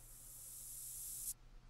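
Moose urine spray from The Hunter: Call of the Wild makes a steady, bright hiss that cuts off abruptly, soft and brief with no talk.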